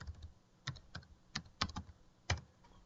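A computer keyboard is typed on in a quiet room, with about half a dozen separate clacks spaced irregularly and sometimes doubled, fairly close and crisp, and no talking.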